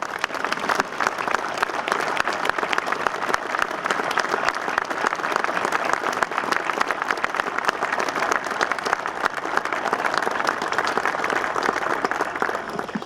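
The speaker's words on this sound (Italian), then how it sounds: "Vi invito a ringraziarla per queste bellissime parole con un sincero applauso" A crowd at an Alpini sectional gathering in Castelfranco Veneto, Treviso, applauds steadily and loudly, with dense, sustained clapping that fills the whole stretch without a break.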